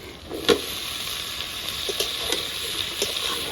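Bottle gourd frying in a pan with tomato, onion and green chilli gives a steady, close sizzle, with a few sharp clicks and taps of stirring over it.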